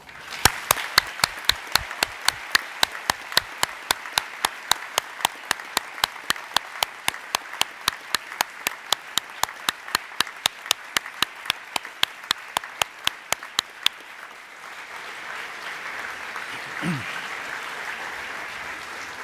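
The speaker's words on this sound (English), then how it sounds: "Let's applaud them." Graduation ceremony audience applauding graduates' supporters, a steady run of loud, close clapping with a few prominent individual hands, fading into quieter room murmur near the end.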